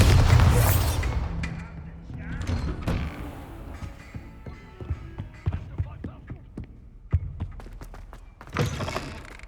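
Confringo and Bombarda spell blasts in the Hogwarts Legacy video game: a loud booming burst opens, followed by a string of sharp thuds and impacts of varying strength and a final blast near the end.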